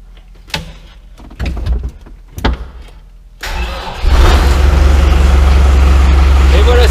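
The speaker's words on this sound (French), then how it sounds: "Donc on appuie sur le bouton et on va tourner la clé." A vineyard tractor is started with the key and a jump-starter booster: a few clunks and starter cranks with someone talking, then the diesel engine catches and runs in a loud, steady close-up rumble.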